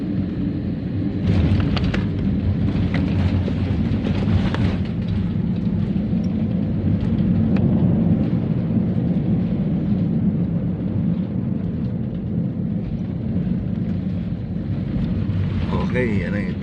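An airplane touches down on landing at Zamboanga City, a loud sustained roar of engine and rolling noise from inside the cabin, with brief louder rumbles early and no talk.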